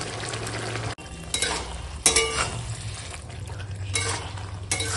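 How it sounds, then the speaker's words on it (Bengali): A radish and spinach ghonto curry with lentil dumplings bubbles in a cooking pot, a close, uneven sizzle and simmer broken by a sharp clatter of a utensil against the pot. "এখন তো ফুটছে তাই কত সুন্দর একটা গন্ধ বেরিয়েছে"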